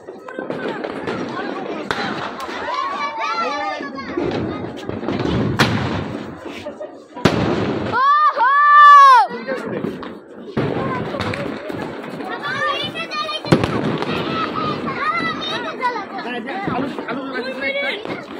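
Fireworks bang and crackle now and then amid lively crowd chatter and shouting, the blasts sharp but partly masked by voices.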